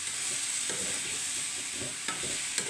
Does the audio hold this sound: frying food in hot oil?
yes